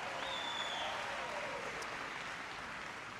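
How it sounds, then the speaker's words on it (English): Faint, distant applause from a crowd at a town hall event in Los Angeles, a steady wash of clapping that lasts about three seconds. "so give her a big round of applause."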